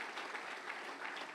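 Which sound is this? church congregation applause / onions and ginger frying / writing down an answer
church congregation applause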